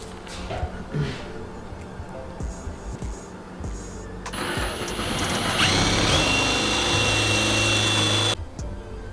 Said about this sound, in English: Go ahead and drill it, Keith.